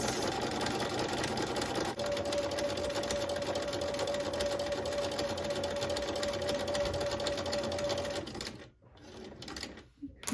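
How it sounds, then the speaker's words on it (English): A sewing machine stitches a quarter-inch quilt seam as fabric feeds under the presser foot, humming steadily up close for about eight seconds before stopping, followed by faint handling noises. "when you stitch and feed your fabric underneath the presser foot"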